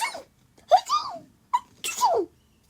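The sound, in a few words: reader imitating sneezes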